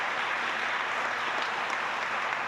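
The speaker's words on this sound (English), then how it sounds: "give them a round of applause" Steady audience applause at a state invention competition awards ceremony, an even dense wash of clapping sustained throughout at moderate loudness, with no talking.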